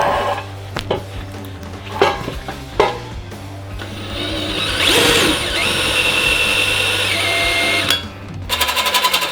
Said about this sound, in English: Put the old battery on the old drill, got the job done.